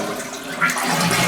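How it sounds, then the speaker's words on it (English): A toilet with a leaking flapper valve being flushed, water rushing loudly and swirling through the bowl, rising in force midway and continuing steadily, alone without talk. "So we're just going to flush it."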